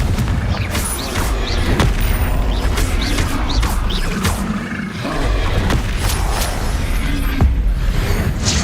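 A Confringo blasting spell explodes in Hogwarts Legacy amid a dense, busy game soundscape, with several sharp booming bursts and crashes over a constant loud mechanical roar, no speech.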